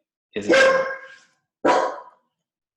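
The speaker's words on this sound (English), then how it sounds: "sorry, that's my dog barking." A dog barks twice indoors, two loud close barks about a second apart, with nothing else around them.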